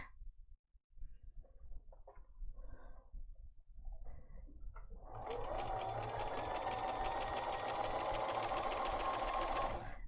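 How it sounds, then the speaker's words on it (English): A sewing machine stitches a quilt seam, starting after a few seconds of soft handling noise and then running in a steady, continuous whir close by until the clip ends. "And I'm going to stop sewing there."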